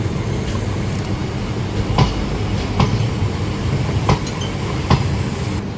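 Train coaches on an opposite track roll past an Antyodaya Express held at a railway station, a steady loud rumble with sharp metallic clicks of wheels over rail joints recurring every second or so.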